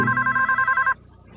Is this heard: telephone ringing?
yes